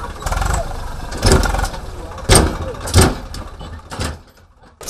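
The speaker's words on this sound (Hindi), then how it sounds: "आयशर के 22 एचपी श्रेणी के इंजन द्वारा एक बार में 3 से 9 हजार तक की ईंटों के निर्माण के लिए सामग्री का निर्माण संभव है" An Eicher 22 HP diesel engine drives a brick pug mill at a zig-zag high-draft brick kiln, giving a steady close rumble that swells in rhythmic surges about once a second.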